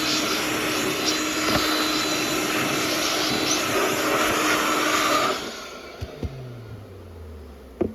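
A new cordless bee blower runs with a loud steady whooshing roar, then cuts off and winds down, leaving a falling hum and a few light knocks.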